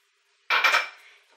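A short clatter of a utensil stirring egg white into icing sugar and almond flour in a bowl, one brief burst of scraping and clinking close by that fades quickly.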